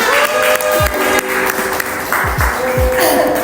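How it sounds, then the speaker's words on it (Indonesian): Students clap together in a classroom, a moderate burst of applause with a few distinct slaps standing out, while voices talk over and around it. "Tepuk tangan"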